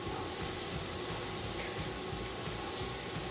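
Carrot, celery and onion hitting a pan of pancetta frying over high flame give a steady, even sizzle, a constant hiss of frying fat with no pauses.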